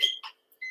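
A short electronic workout-timer beep during a jump rope workout, sounding twice in quick succession, bright and close, with nothing else heard around it.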